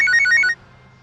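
A bright electronic phone ringtone trills for about half a second, then cuts off into quiet room tone.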